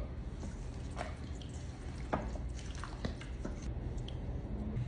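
Raw salmon cubes are tossed in a honey lemon pepper sauce, making faint, soft wet squishing and dripping sounds at close range, with no one speaking.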